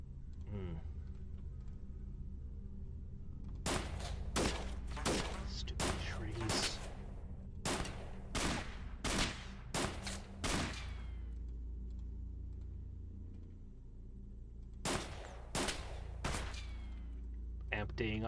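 Rapid volleys of gunfire from The Xcom Files, a mod of the alien-fighting strategy game, crack in several clustered bursts, one long run of shots followed by a pause and a final short salvo, loud and close.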